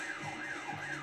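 A wailing emergency siren sounds in the driving game The Getaway, rising and falling in a steady electronic sweep. It is faint and continuous through the short stretch, with no voices.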